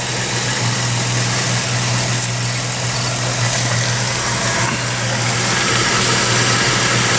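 A 1987 Lesharo motorhome engine idles steadily, a close, constant low hum and rumble with a smooth drone that holds evenly and alone from start to finish, with no voices or other sounds breaking in over it.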